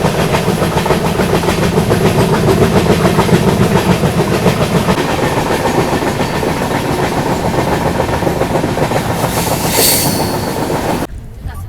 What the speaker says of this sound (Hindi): अभी अपनी ट्रेन पहुंच रही है गुवाहाटी रेलवे स्टेशन